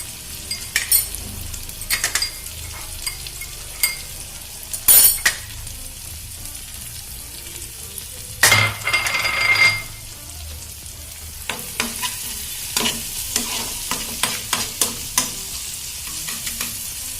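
Spices and salt sizzle steadily in a hot pan while a utensil stirs, scraping and clinking against the metal in irregular close bursts, with a louder scraping stretch midway and no voices.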